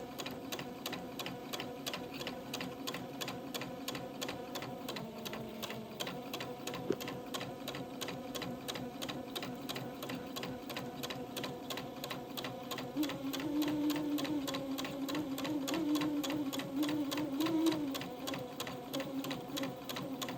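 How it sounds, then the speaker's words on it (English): A sewing machine stitches a pin tuck into fabric, its steady rapid mechanical whir and needle ticking running continuously up close, with a slightly louder, busier stretch in the latter part. "I'll begin to sew the second pin tuck."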